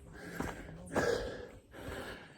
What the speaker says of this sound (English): I wouldn't be breathing like this